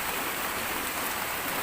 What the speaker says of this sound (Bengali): এত জোরে বৃষ্টিটা হচ্ছে।